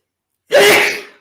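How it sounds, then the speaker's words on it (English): One strong, sudden human sneeze bursts out loud and close after a moment of silence, then trails off quickly, with no talking around it. "I love a strong sneeze."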